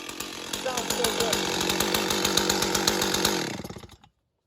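A gas chainsaw, from a run of Stihl, Husqvarna and Echo saws, revs hard with a rapid, buzzing engine pulse that holds steady for a few seconds before cutting off abruptly into silence.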